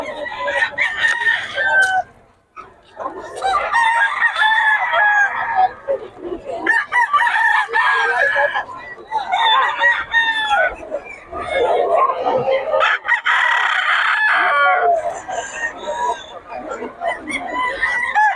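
Several roosters crow loudly in overlapping calls, with clucking hens and people talking nearby at a chicken market in Bocaue, Philippines.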